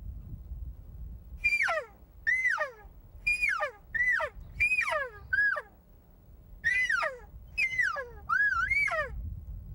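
Hand call imitating a generic elk cow call: a series of about nine short, high, nasal mews that drop in pitch, loud and close, spaced in irregular bursts over faint background rumble.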